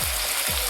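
Tomatoes drop into hot oil in a home kitchen pan, giving a dense, steady hiss and crackle of sizzling throughout this brief moment, loud and close with no voices.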